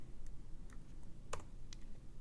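Typing on a computer keyboard while filling in a school application form online, heard as a few sparse, light key clicks scattered over a low background hum.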